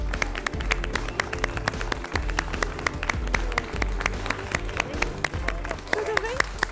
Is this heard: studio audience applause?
yes